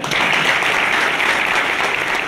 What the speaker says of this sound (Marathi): एक वेळ सागर साहेबांच्या मिसेस साठी जोरदार टाळ्या.